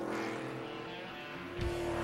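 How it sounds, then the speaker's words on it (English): An ARCA race car refires and leaves pit road at Rockingham, its engine a steady buzzing drone at a distance that swells briefly near the end as it pulls away. "He's refired now and headed back towards the racetrack."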